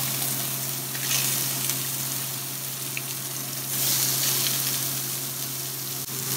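Yellow and green zucchini sizzle steadily in a hot pan, a continuous close frying hiss with brief louder surges and no talk.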